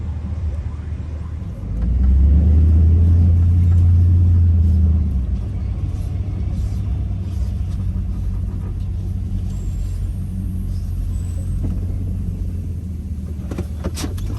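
A vehicle rumbles as it pulls in, a deep, loud low-end drone that swells for a few seconds, then settles into a steady engine hum; someone talks briefly over it.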